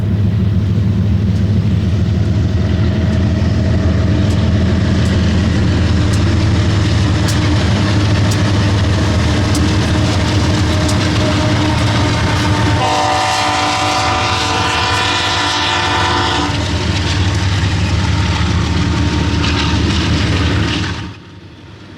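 A heavy Union Pacific double-stack freight train departs, rumbling steadily nearby with a loud, broad roar, a brief tonal squeal rising midway before the sound cuts off abruptly.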